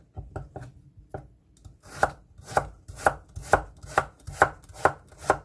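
Half a carrot is sliced into half-moons on a cutting board: a few scattered knife taps, then a steady, fast run of about nine crisp, evenly spaced chops, close and clear with no talking.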